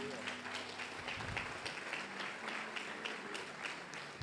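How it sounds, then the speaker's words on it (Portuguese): A church congregation applauding, a dense, steady patter of many hands clapping throughout, with a voice talking at the start. "aplaude a Deus, agora aplaude."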